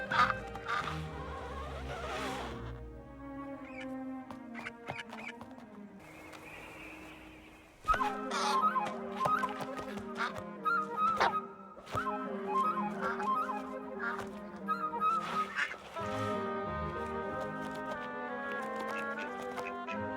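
In the 2006 stop-motion Peter and the Wolf, the duck's part comes as honking, quacking reed-like tones over orchestral accompaniment, with a brief hushed pause before the playing resumes loudly.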